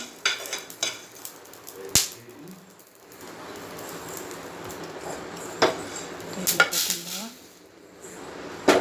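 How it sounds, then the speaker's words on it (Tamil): Fenugreek seeds dry roasting in a pan, with light crackles and pops, clinks of a utensil against the pan and scraping stirs close by, fairly soft overall with a few sharper knocks. "பொரியுது பாருங்கள் வெந்தயம்"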